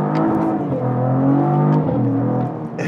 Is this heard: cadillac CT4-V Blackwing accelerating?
yes